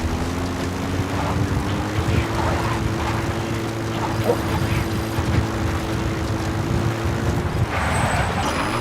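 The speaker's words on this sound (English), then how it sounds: "Support helicopter has arrived." A steady, droning rotor-and-engine hum of a support helicopter arriving in the video game Metal Gear Solid V: The Phantom Pain holds throughout, close and fairly loud, like a helicopter hovering nearby.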